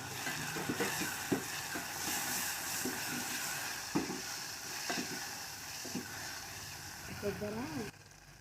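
Tomato pieces sizzle and fry in a pan in a village kitchen, with a steady hiss under occasional soft scraping stirs and light clinks; a voice talks over the cooking.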